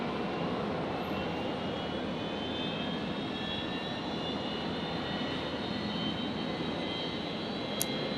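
An airliner on approach at Brisbane International Airport produces a steady, broad jet engine roar at night, moderately distant and continuous without talk.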